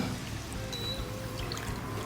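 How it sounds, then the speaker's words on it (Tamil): Squeezed ash gourd (pumpkin) juice poured into a pan for Kashi halwa, a steady liquid trickle running continuously and close up, with no talk over it. "முதல்ல இந்த புழிஞ்சி வச்சிருக்கிற இந்த பம்கினுடைய தண்ணி, பூசணிக்காய் தண்ணியை நம்ம"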